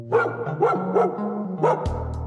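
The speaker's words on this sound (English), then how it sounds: "Was that dogs?" Dogs barking in a short burst of four or five sharp yips close by, over a steady background hum.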